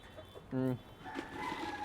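A rooster crows once, loud and near, among softer clucking hens, with faint talking around it.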